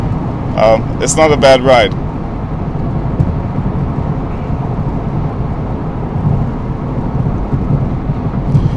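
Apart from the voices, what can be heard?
freeway road noise inside a Mercedes-Benz C300 cabin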